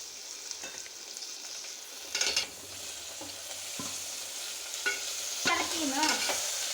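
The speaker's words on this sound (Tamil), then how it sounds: "நல்லா வதக்கணும்." Onion and tomatoes sautéed in a pan for vegetable rice, with a constant soft sizzle of frying, occasional scrapes and clinks of a spoon stirring, and no talking.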